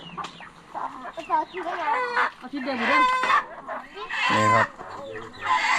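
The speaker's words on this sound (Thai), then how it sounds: "นี่คือไก่ที่ทำพิธีนะครับ" Chickens and a rooster kept for a rural rice-field ceremony near the Myanmar border cluck and call repeatedly at close range, with voices talking over and between the calls.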